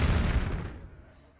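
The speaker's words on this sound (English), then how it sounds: "Cannon." A cannon fires in the Hearthstone card game as a single heavy boom, loud at first and then rumbling away over about a second.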